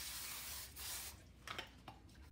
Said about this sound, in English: we can give it a little zap with the spray.